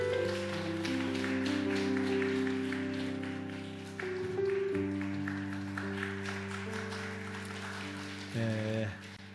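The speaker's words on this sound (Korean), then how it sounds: "선물 전달대 격려 박수 부탁드립니다" A church congregation claps for a gift presentation during a Sunday family service. Dense, quick claps run under sustained keyboard or organ chords and thin out over several seconds.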